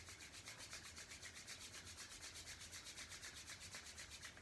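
Palms rubbed briskly together at the close of a Kundalini yoga exercise, a soft, rhythmic swishing of skin on skin repeating at a steady quick pace throughout, close and quiet with no voices.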